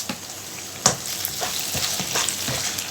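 Chopped garlic and ginger sizzle in hot oil in a karahi for a fried eggplant masala, giving a steady close crackle with a sharp burst as they go in and scattered pops after.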